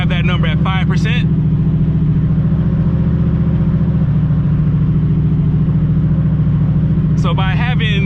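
Turbocharged Ford Mustang engine held at a steady low-rumbling drone during small throttle pulls, loud and close, with someone talking over it at the start and end.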